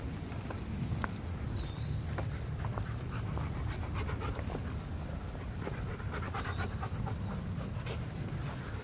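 Rapid, rhythmic panting from several dogs close up, continuous throughout, with faint morning outdoor ambience in a valley by the Mississippi River and an occasional distant bird chirp.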